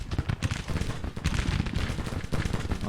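Dense rolling rifle volleys mixed with booming cannon fire from a Civil War battle in the strategy game Grand Tactician, loud and continuous with crackling bursts and no talking.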